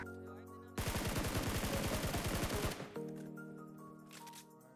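Rapid automatic gunfire in a PUBG squad match, a dense burst of roughly two seconds of fast repeated shots, loud and close, followed by fainter game ambience.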